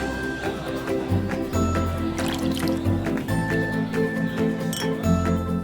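Water pours and trickles with liquid splashes and light clinks, mixed over a steady musical backing throughout.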